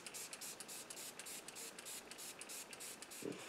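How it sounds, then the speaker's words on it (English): A can of setting spray hisses in a steady burst of fine mist, close and fairly quiet, with short pulsing breaks in the spray across its few seconds and a faint thump near the end. "Setting spray."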